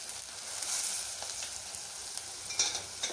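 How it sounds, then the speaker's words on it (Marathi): Squeezed soya chunks stirred in a frying pan, giving a steady close bright sizzle with scraping stirs throughout and a few sharper clicks near the end. "आपल्याला यात ह्या जे सोयाबीन होड्या आहेत त्या पिळायच्या आहेत आणि पिळून आपल्याला यात घालायचं"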